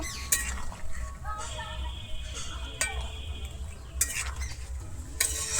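Fried koi fish are stirred into a simmering gravy, with scattered spoon-on-pan clinks and scrapes over a low, steady sizzle, heard close and fairly quiet.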